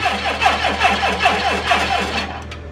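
A Volkswagen Jetta mk2 engine cranks over loudly in a fast, even rhythmic chug for a couple of seconds without catching, then winds down.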